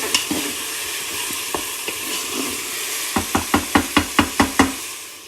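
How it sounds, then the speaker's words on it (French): Chopped onion and garlic sizzle and fry steadily in a pan, with a loud run of sharp, evenly spaced knocks from a utensil striking the pan near the end. "Donc là, je viens de rajouter mon oignon et mon ail que j'ai bien haché. Je fais revenir tout ça."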